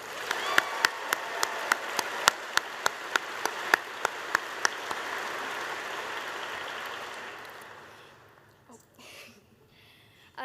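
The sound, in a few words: applause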